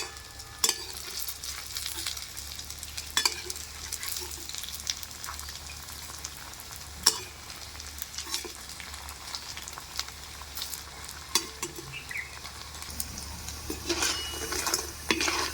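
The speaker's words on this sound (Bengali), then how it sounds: "পকোড়াগুলো একদিকে ভাজা হয়ে গেছে এরপর আমি উল্টে পাল্টে ভালো করে কিন্তু ভেজে নেব" Raw banana pakoras sizzling in hot oil in a kadai, a soft steady frying hiss with occasional sharp clinks and scrapes as the fritters are turned, no voices.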